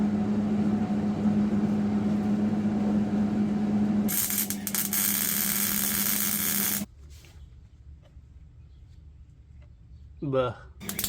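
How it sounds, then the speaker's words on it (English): Arc welding a nut onto a rusty, stripped fitting on a 240SX, a close, steady crackling buzz with a faint hum beneath, ending abruptly, followed by quieter shop noise and a brief voice. "So what I plan to do is weld a nut to the top of this, and hopefully it'll come out."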